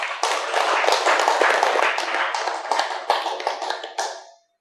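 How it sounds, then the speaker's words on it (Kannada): An audience applauds loudly at an Ugadi festival gathering, a dense burst of close clapping that holds steady for about four seconds and then tapers off quickly. "ದೇವದಾಸ್ ಸರ್ ಅವ್ರಿಗೊಂದ್ಸಾರಿ ಜೋರಾಗಿ ಚಪ್ಪಾಳೆ."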